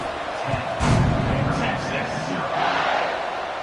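Football stadium crowd at kickoff, a broad roaring wash of many voices that swells loudly near the start and then holds as a steady dense din, with a commentator's voice running over it.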